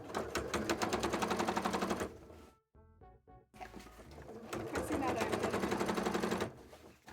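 A sewing machine stitching a cosplay skirt, two bursts of rapid rattling stitching separated by a brief pause with a few slower clicks, close and fairly loud.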